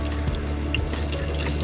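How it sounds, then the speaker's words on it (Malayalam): Coconut oil pours into a clay pot in a steady liquid stream that runs close and fairly loud for the whole moment, with no talking. "ഒരു മൺചട്ടി വെച്ച് അതിലേക്ക് വെളിച്ചെണ്ണ ഒഴിക്കുക."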